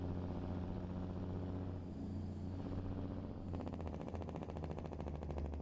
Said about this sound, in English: Truck sounds like a beast, pal.